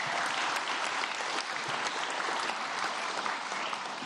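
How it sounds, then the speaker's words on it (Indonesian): A large stadium crowd at a papal event celebrating a birthday bursts into dense, sustained applause, a steady wash of clapping at moderate distance that holds evenly throughout with no voices rising above it. "Tepuk tangan."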